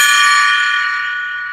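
A golden gong rings on after being struck, its bright metallic shimmer decaying gradually and heard alone.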